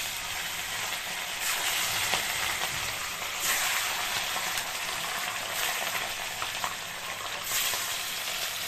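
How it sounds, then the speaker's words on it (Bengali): Pieces of katla fish fry in hot mustard oil in a wok, giving a continuous close, loud sizzle and crackle with slight surges and no voices. "মাছটা লাল লাল করে ভেজে নেব"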